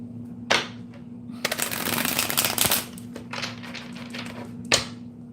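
Tarot cards shuffled and cleared by hand, a dense burst of riffling and flicking in the middle framed by sharp single slaps, close and fairly loud against a faint steady hum.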